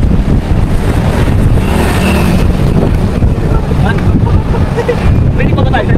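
Loud, steady wind buffeting an outdoor microphone, a constant low rumble throughout with a faint hint of water or waves beneath, and no clear talk over it.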